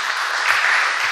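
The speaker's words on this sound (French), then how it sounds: "On les applaudit." A conference audience applauds the speakers, a brief burst of dense, even clapping heard up close without any voices over it.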